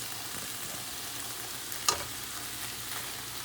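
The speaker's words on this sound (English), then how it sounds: "just let all of that saute together until your onions and your peppers are, softer, not so hard" Garlic, onions and peppers sautéing in a pan for keto dirty rice, a steady close sizzle with one brief scrape of stirring partway through.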